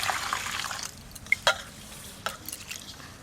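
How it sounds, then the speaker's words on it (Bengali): Rice is washed with water in a bowl: a brief splashing swirl, then scattered drips and small clicks nearby, with no speech. "2-3 বার জল দিয়ে খুব ভালো করে ধুয়ে নেব।"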